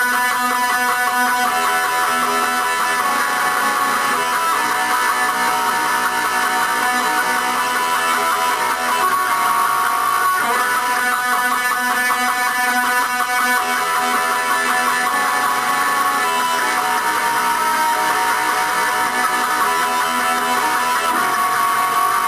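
Loud, dense electric guitar plays a distorted intro riff, chugging steadily and continuously for over twenty seconds without any talking.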